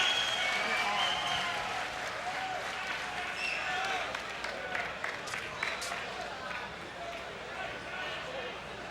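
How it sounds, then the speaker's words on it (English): Arena crowd at a UFC mixed martial arts event clapping and cheering after a submission win, a sustained roar of applause with scattered whistles, with voices mixed in beneath. "let's do have a big hand of applause for Mr."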